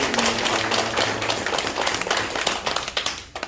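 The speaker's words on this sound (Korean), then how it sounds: "크게 한번 다시 박수합시다." A church congregation claps for the choir after an Easter service hymn, a loud sustained wash of many hands that thins and fades toward the end.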